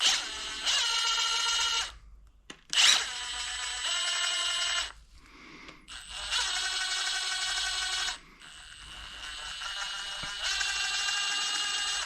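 An electric power tool slowly draws out bolts during an S85 engine rebuild, whining loudly in several long sustained runs with brief pauses between them.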